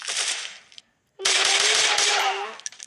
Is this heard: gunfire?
yes